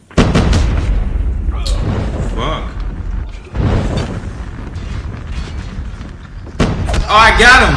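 Sentry gun blown up in a video game zombie match, a series of heavy booms and blasts with bursts of gunfire-like cracks, loud and close, while a voice talks over the action.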